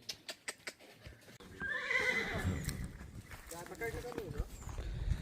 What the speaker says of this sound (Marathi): इथं त्यांनी पाचवा घोडा पण आणलेला आहे